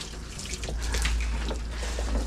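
Water rinsing down a car door being prepped for paint, a steady close splashing hiss with dripping and running water throughout.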